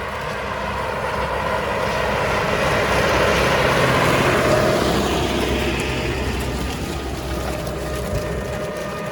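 A heavy diesel YuMZ-6 tractor engine drones steadily and loudly throughout, with a broad mechanical rumble and rattling from the towed DBN 2.4 disc harrow working sunflower stubble, and no voices.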